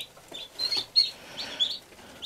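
Newly hatched Chantecler chicks peep in a brooder under a heat lamp, a few quick, high, thin chirps scattered close by over a faint background.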